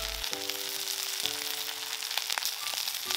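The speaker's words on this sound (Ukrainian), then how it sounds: "Рібай смажимо на сильному вогні по 4-6 хвилин з кожного боку." A ribeye steak sizzles steadily in a pan over high heat outdoors, with vegetables and mushrooms cooking beside it; the frying crackles continuously, close and fairly loud, with sharp pops now and then.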